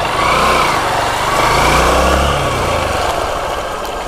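A Honda Bros motorcycle engine runs steadily while riding across a field, a loud, close, continuous drone with rough low rumble and a slight dip in level toward the end.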